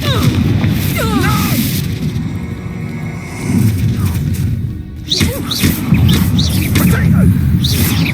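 A Confringo fire spell bursts in Hogwarts Legacy: loud booming blasts and crashes amid game combat noise and shouted voices, close and dense.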